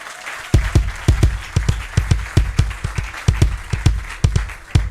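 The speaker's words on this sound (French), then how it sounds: "Acclamation" Regular sharp claps, close and loud, repeat throughout a church service in Béthune, Hauts-de-France, keeping a steady pulse like rhythmic congregational clapping, with a faint murmur of voices behind.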